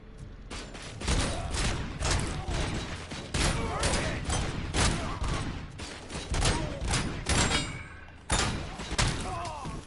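Rapid bursts of gunfire fill a RoboCop video game on PS5, loud, dense volleys with heavy thuds and metallic clangs, nearly continuous with brief pauses.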